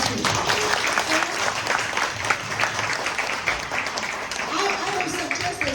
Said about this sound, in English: Can we give Sarah a big round of applause,